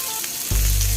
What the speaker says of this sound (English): Y'all hear that sizzle? It's because we are making sausage and bacon omelets.